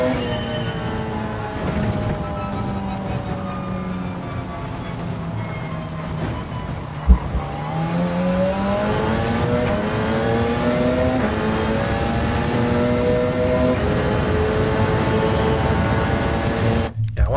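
Race cars in the Gran Turismo video game during a Nations Cup online race, a loud sustained engine whine climbing through gears with sharp upshift drops, other cars droning close alongside.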